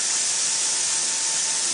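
A spraying machine pushes thick but lightweight hot pipe coating through its nozzle, making a steady, loud, unbroken hiss close by with no voices.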